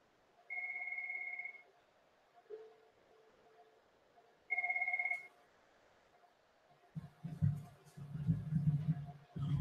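A Cisco IP phone in an office rings twice in the background, each ring a steady electronic tone, faint and distant. A person then starts speaking nearby.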